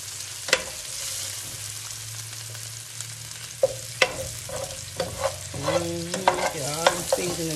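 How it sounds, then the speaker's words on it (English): Eggs fry in a pan with a soft steady sizzle, punctuated by sharp clicks and scrapes of a utensil against the pan, growing busier toward the end. "And I want to use this pan to make my eggs."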